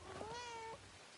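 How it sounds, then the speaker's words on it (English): A cat in the video game Where Winds Meet gives a single clear, drawn-out meow lasting under a second, close and distinct against a quiet background. "Also, apparently there's another cat."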